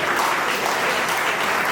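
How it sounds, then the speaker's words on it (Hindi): Dense, loud crowd applause fills a hall at an evening cultural program for a Chitragupta puja celebration, a continuous roar of many hands clapping with no pause. "भाई साहब के लिए कस के ताली बजाइए आप लोग।"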